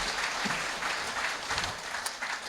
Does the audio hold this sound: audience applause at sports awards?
yes